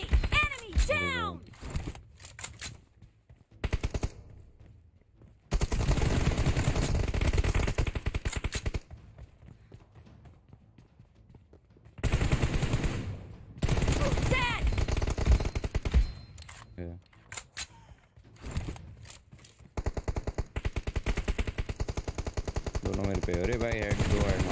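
Bursts of automatic gunfire in a video game team deathmatch, loud rapid volleys broken by quiet gaps, with a player talking at times between and over the shots.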